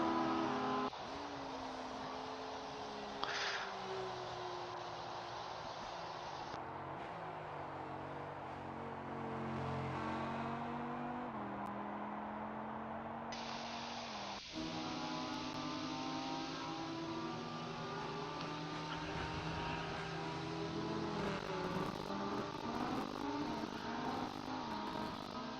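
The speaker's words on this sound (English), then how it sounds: "going around in the Audi at Hockenheim on the Rennsport closed beta" An Audi GT3 race car laps Hockenheim in the racing game Rennsport, its engine droning steadily and loudly while it shifts up and down through the gears.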